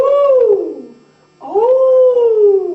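A human voice imitates a howling animal such as a cat or fox, giving two long, high, wavering tones that rise and slide down, with a brief pause between them, loud and close.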